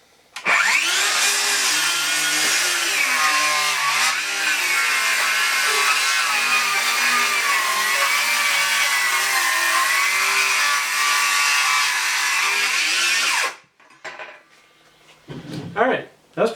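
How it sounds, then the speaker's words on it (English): A DeWalt DCS574 brushless 7-1/4 inch circular saw spins up loudly and makes a plunge cut in wood, its whine holding steady with slight pitch dips under load for about thirteen seconds, then winding down to quiet handling noises. "We're going to do a plunge cut."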